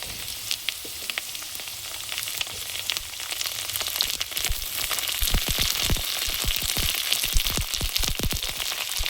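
Potatoes and cauliflower florets fry in a pan with a dense, crackling sizzle that grows busier and louder with sharp spitting pops, no voices.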